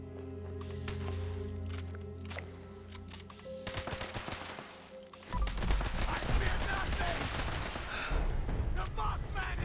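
Automatic weapon fire in the video game Fallout 76 rattles out in rapid bursts, first scattered shots, then a dense, loud volley in the second half.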